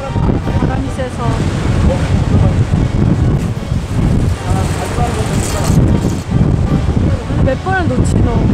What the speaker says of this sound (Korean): 바람이 세서